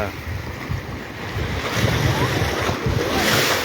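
Sea waves wash onto a private beach at the Regent Cha-am beach resort, a steady close roar of surf mixed with wind buffeting the microphone, continuous throughout with no clear speech.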